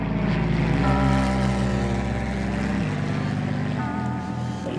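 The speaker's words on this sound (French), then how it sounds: "je pilote l'avion postal d'Alice Springs." Propeller mail plane flying out of Alice Springs in central Australia, a steady loud droning engine hum with shifting tonal steps, continuous and close, with no talking.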